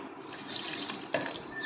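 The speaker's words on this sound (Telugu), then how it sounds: "కొంచెం వాటర్ వేసుకున్నాను ఫ్రెండ్స్" Water trickles and splashes as it is poured over ice for a blended milk drink, a faint, continuous liquid pour with a small clink partway through.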